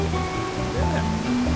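Running water where a hot stream and a cold stream meet on Flores, Indonesia, giving a constant broadband rush with a low rumble, close and steady throughout.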